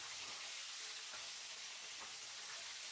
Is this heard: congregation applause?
no